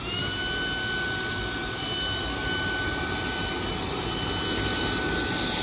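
A vacuum cleaner runs steadily while cleaning dog hair in a new flat, giving a constant close whine with a broad airy roar and no pauses.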